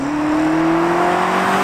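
Deep, steady engine drone with a rising tone as a 2020 BMW X5 M Competition, a 617-horsepower turbocharged SUV, accelerates close by with its exhaust rumbling underneath.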